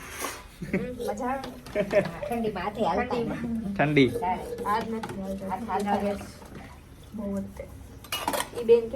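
Dishes washed by hand at home clatter and clink continuously, metal utensils knocking together close by, while a person talks over the noise throughout.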